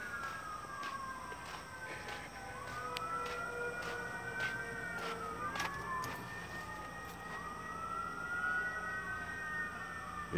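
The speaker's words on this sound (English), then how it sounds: "They went back to their old sirens, the fire engines." Fire engine sirens wail outdoors at a distance, several overlapping rising and falling tones sweeping continuously for about ten seconds, faint but steady over low background noise.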